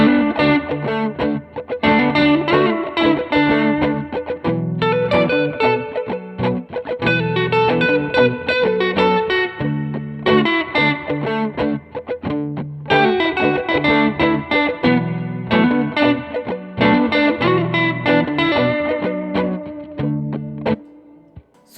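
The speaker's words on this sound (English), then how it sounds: "I'm going to throw some overdrive on, little reverb, why not? And just hit that looper pedal again." Overdriven electric guitar solo played through reverb over a looper pedal backing, with continuous phrased licks and short pauses between them, loud and close throughout.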